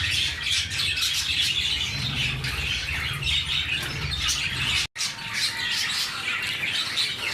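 Birds at a Sunday bird market, among them java sparrows and cockatiels: a dense, continuous chorus of chirps, tweets and squawks from many birds close by, loud and unbroken except for one brief dropout.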